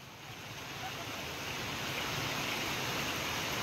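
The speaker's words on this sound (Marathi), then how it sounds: "पाऊस बघा किती जोराचा चालू झालाय." Heavy monsoon rain pours down outdoors in a dense, roaring hiss that swells in the first second and then holds steady and loud, with no voices over it.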